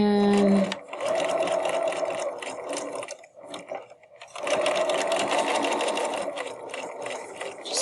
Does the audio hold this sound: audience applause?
no